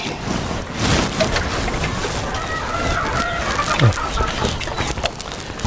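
Chickens cluck and a rooster crows in a rural Thai setting, a busy run of close clucks and calls over low background noise, with some talk mixed in.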